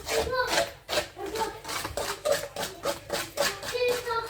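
Oil being whisked into eggs in a bowl for coconut balls, a quick rhythmic scraping and clatter of utensil against bowl repeating roughly twice a second, close and fairly loud with no talk.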